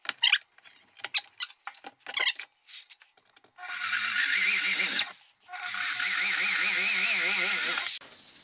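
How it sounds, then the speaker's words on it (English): Power drill boring two holes through a steel knife blank in a home shop: scattered clicks and taps, then two sustained whining, wavering drilling passes with a brief gap between them. "Drill two holes"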